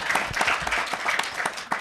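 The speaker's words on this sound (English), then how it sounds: "Let's clap for Adama" Audience applause at a school English-language TV show taping in Bamako, a dense, steady patter of many hands with a few louder claps, fairly close and continuous through the short stretch.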